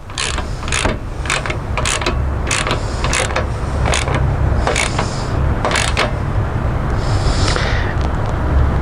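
Metal bolts being snugged tight on a Can-Am Defender side-by-side, giving a steady run of close, repeated ratcheting clicks over a constant mechanical background noise.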